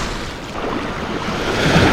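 Strong ocean waves rolling ashore where floodwater now reaches former houses, a continuous broadband wash with wind buffeting the microphone, building louder toward the end, no talking.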